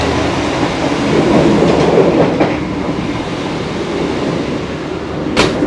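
The Baturraden Express passenger train heading to Bandung rumbles steadily along the rails, recorded from inside a business-class coach, with a loud continuous roar, faint rhythmic wheel clatter and a brief sharp squeal near the end.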